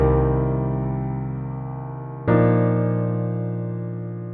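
Two sustained keyboard chords, including a major 7 sus2 chord, one ringing for about two seconds before a second chord is struck and left to decay, rich and jazzy.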